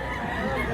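A rooster offered for sale at a livestock market in Mantalungon, Barili, Cebu gives a brief, close call over background market noise.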